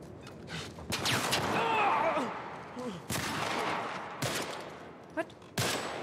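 Gunfire in The Last of Us remake video game: bursts of rapid shots and sharp single cracks, loud and close, mixed with game sound effects and a player's excited talk.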